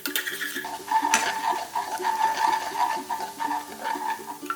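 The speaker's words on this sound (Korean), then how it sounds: "중약불에 팬 올려 식용유 2스푼, 다진 마늘 넣고 볶아" Minced garlic stir-fried in two spoons of cooking oil in a pan over medium-low heat for japchae, a steady sizzle with rhythmic scraping and light clatter of utensil on pan.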